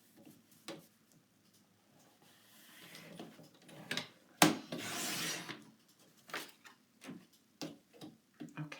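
Paper being trimmed to 3.5 inches for a 12x12 scrapbook page layout, heard as soft rubbing and rasping cuts with a sharper slicing burst in the middle, close and fairly quiet, with no talking.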